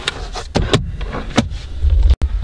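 A VW Golf Mk7.5 center armrest slides back and forth several times, giving short clicky thuds and scrapes in an uneven rhythm, close up inside a quiet car cabin with a brief low rumble near the end.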